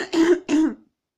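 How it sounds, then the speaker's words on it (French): Two short, gravelly throat clearings in quick succession, close and fairly loud, then silence. "Donc je fais comme ça, je racle la gorge."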